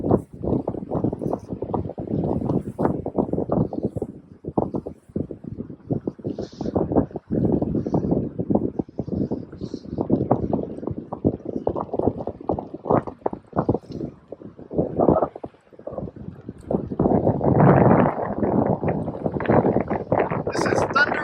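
Gusty mountain wind buffets the microphone beside Thunder Lake, an alpine lake ringed by peaks, with loud, uneven roaring bursts that rise strongly near the end.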